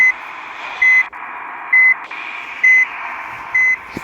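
A vehicle's reversing alarm sounds after it is shifted into reverse gear, loud, evenly spaced electronic beeps repeating about once a second over a steady engine hum, close with no talking.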